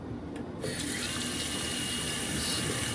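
Tap water runs steadily over a Philips Norelco Pro 7000 head shaver while it is switched on, a loud continuous hiss of the stream that starts abruptly and then flows without a break.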